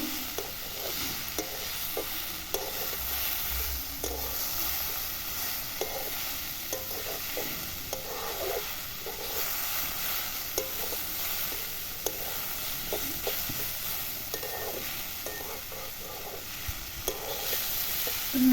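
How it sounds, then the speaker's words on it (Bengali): Shola kochu (taro) mixture fries in a pan and is stirred, a close, steady sizzle broken by repeated scraping stirs of a spatula against the pan, with no voices. "সব কিছু ভালোভাবে যাতে মেশে তার জন্য একটু আমি ঘেটে দিচ্ছি"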